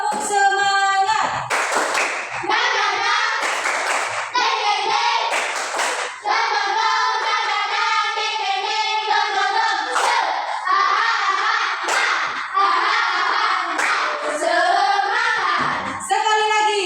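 Schoolchildren in a classroom perform a rhythmic spirit clap, sharp group hand claps in patterned bursts alternating with loud chanting in unison, close and energetic.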